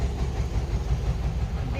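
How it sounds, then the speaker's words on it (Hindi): A tractor driving past on a rural lane: a steady low engine rumble that holds level throughout, with a voice faintly mixed in. "देखना ट्रैक्टर जा रहा ना"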